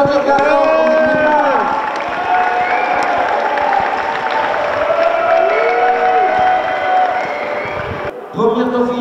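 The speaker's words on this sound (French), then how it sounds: "On peut encore les applaudir également." A crowd applauds and cheers the Miss Houblon 2013 beauty pageant contestants, a dense continuous wash of clapping with voices shouting over it, ending in a brief lull before a final burst.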